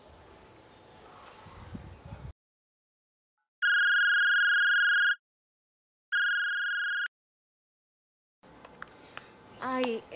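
A telephone rings unanswered: two long electronic ring tones separated by a pause, heard alone in silence, with faint room noise and a voice at the start and end.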